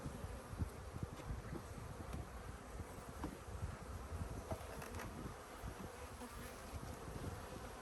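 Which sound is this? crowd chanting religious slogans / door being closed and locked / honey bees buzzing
honey bees buzzing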